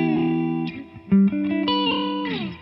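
An Ibanez AZ 2402 electric guitar played through heavy distortion, ringing sustained chords with a few quick chord changes, loud and alone.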